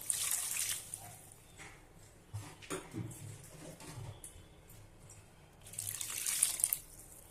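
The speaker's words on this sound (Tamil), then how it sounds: "அளவாக தண்ணி ஊற்றி அப்படியே மூடி வச்சிருங்க" Water trickles and splashes into a pan of ground masala for mutton liver fry, with soft running-water hiss rising at the start and again near the end, fairly close.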